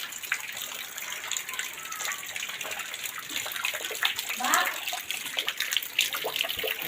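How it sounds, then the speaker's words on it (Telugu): Rainwater floods in after heavy rain, a steady broad rush of flowing water close by with faint voices at times. "నీళ్ళు వర్షానికి ఎక్కువ వచ్చాయండి"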